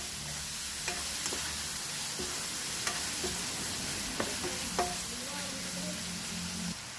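Taro and oyster sauce mixture being stirred in a pan, a soft continuous sizzle with occasional spoon taps and scrapes against the pan, close and moderately quiet, no talking.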